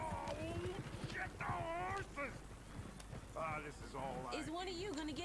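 Horse hooves clip-clopping in the video game Red Dead Redemption 2, a steady rhythmic patter of hoofbeats running under almost continuous talking, with outdoor ambience in the background.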